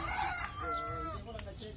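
A white native rooster crows nearby, a drawn-out cock-a-doodle-doo rising and falling over a low background murmur.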